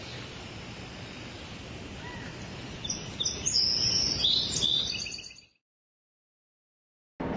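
Birds chirp and sing on a leafy university campus in Diliman, bright calls rising over a steady broadband wash of background noise before the sound cuts to silence.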